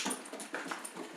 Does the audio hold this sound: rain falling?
no